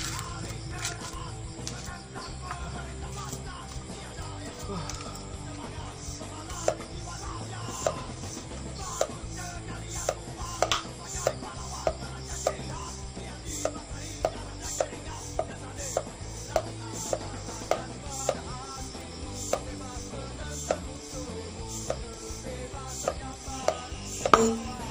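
A Pirelli Diablo Rosso tyre is inflated until its bead seats on the rim, giving a run of sharp, cracking pops and snaps scattered over a steady hissing, rumbling pump noise, close and fairly loud.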